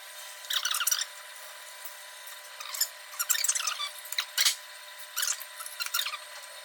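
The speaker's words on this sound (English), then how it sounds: "I'm just going to get a little bit of emery cloth and just wipe the face of the" Emery cloth rubs the metal face of a cam pulley on a classic Renault engine, making faint, scattered scratchy strokes in short irregular bursts, close up with no talking.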